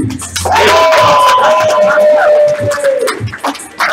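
A studio audience at a game show makes sustained cheering and crowd noise, with a sliding whistle-like tone running through the middle.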